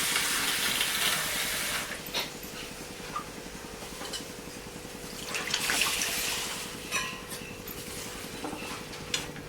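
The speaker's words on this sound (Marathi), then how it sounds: "आमटीला पाणी घालायचं" Water pours in a hissing stream for about two seconds into a simmering curry, then the pot simmers and bubbles with light clinks of utensils.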